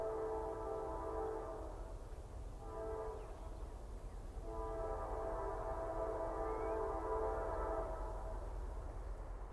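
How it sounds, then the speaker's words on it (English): A long freight train of brightly colored sea containers, intermodal train I-43, is hauled by locomotives in the older Thoroughbred paint scheme out of a cut across rural land near Richland. Horn blasts sound repeatedly over a steady low rumble. "pull I-43 and its train of brightly colored sea containers out of the cut and across the rural landscape"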